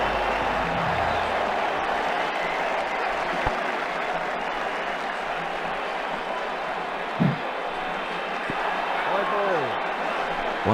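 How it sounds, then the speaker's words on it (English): A stadium crowd in the Ashes Cricket 2009 video game gives a sustained, steady round of applause that forms a dense roar throughout, with a couple of brief thumps over it. "crowd are giving him a warm round of applause"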